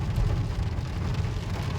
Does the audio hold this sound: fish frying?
no